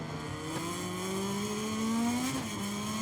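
A Ducati racing motorcycle in MotoGP 23 accelerates out of a chicane, its engine note climbing steadily in a smooth continuous whine, then dipping briefly at a gear change before rising again.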